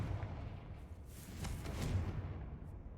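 A Confringo blasting spell from Hogwarts Legacy bursts into a broad, rumbling explosion that swells mid-clip and then trails off into a low, steady roar.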